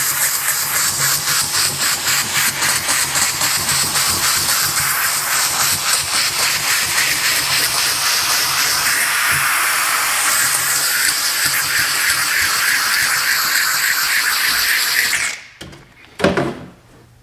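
A steam cleaner works on a Prius's interior, letting out a loud, steady, close hiss that pulses slightly for about fifteen seconds, then cuts off and leaves a few faint clunks and handling noises.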